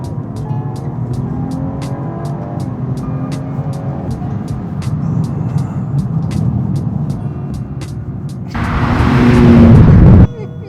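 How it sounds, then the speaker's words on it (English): A BMW Alpina B3 engine is heard through a drive, with steady engine noise and rhythmic ticking, then a louder rising rev near the top of the range before it cuts off abruptly. "right at the top end of the rev range, you do get a little bit of popping and banging"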